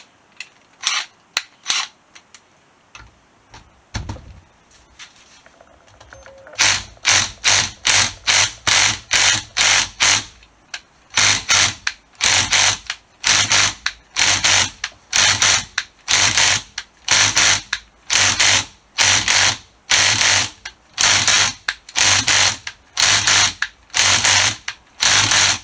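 An impact wrench with an 11mm impact socket hammers on the stripped remains of a 12mm nut during a VW Golf Mk2 cylinder head strip. After a few scattered taps it fires repeated loud rattling bursts with short pauses between them, close and alone.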